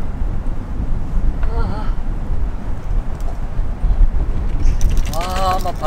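Strong wind at a campsite buffets the microphone in a constant low, roaring rumble. Brief voices come through the gusts now and then.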